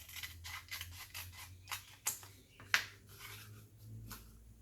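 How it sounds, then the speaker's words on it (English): Scissors snip through a piece of book-page paper in a rapid run of crisp, close cuts, followed by a couple of sharper, louder snips. "Grab my scissors, cut"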